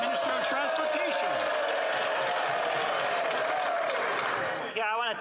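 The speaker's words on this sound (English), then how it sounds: "I want to thank my colleagues for their applause." Applause from members of the House of Commons fills the chamber as a sustained, loud patter of clapping, with voices talking over it and a brief break near the end.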